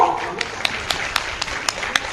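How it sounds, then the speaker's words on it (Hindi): Crowd claps at a ceremony honouring sports players in Jharkhand, with the chief minister present. The claps come in an even rhythm, moderately loud under someone speaking over a public address. "तालियां आपकी तरफ से हो।"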